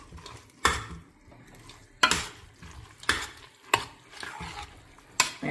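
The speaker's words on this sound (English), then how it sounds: "So now we're gonna keep stirring." A spoon scrapes and knocks against a pan while lemon butter sauce is stirred over a high flame, about six distinct clanking strokes spaced irregularly over a soft, steady sizzle.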